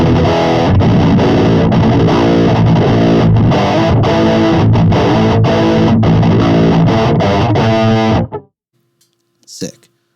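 Electric guitar played through a Boss Metal Zone and a Fortin Grind with the treble and bass turned up. It gives loud, heavily distorted palm-muted chugging riffs for about eight seconds, then stops abruptly, and brief faint sounds follow.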